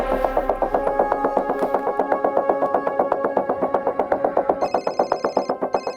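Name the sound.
telephone ringing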